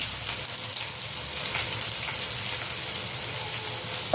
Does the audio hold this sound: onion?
yes